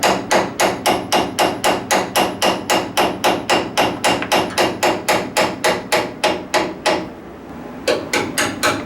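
A hammer strikes a truck track bar bushing on a Bullnose Ford F-150 Cummins project truck in an even, rapid series of sharp metallic taps, loud and close, with a short pause near the end before resuming.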